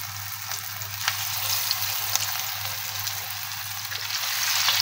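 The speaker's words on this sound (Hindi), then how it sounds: "ऑयल हमारा गर्म हो चुका है, अब हम इसके अंदर जो है लेग पीस ऐड करना शुरू करेंगे" Marinated chicken leg pieces fry in hot oil, a loud, dense, continuous crackling sizzle close up, with a few sharper pops as pieces are added.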